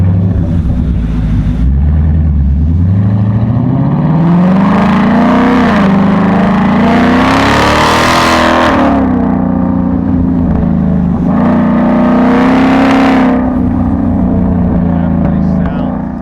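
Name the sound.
2024 Super Snake revving, resonator delete exhaust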